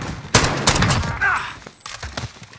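Gunfire in the video game Call of Duty Modern Warfare during a 2v2 gunfight, several sharp rapid bursts in quick succession, loud and close, with a brief pause between volleys.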